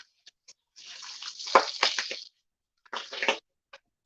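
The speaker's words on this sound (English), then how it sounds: "we're gonna add a little bit of water to the bacon to let it loose" Water poured into a hot pan of frying bacon gives a loud sizzling hiss in two bursts, the first longer and peaking midway, the second shorter after a brief pause, with small ticks and pops between them.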